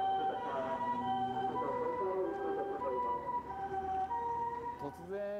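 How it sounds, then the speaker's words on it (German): A Japanese fire engine siren wails steadily at close range, its sustained tones sliding in pitch amid street noise. "Vor allem ältere Leute erschrecken, wenn plötzlich die Sirene losheult."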